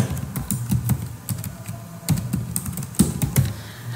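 Typing on a computer keyboard while drafting in AutoCAD: irregular bursts of close key clicks and taps, with a short pause before the typing resumes.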